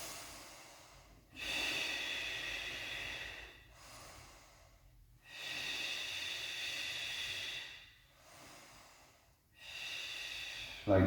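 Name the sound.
exhaling during a mini ball exercise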